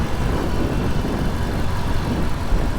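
A 2001 Ford F-150 SVT Lightning's supercharged engine and exhaust rumble steadily at close range, a continuous low, throaty drone with no talking.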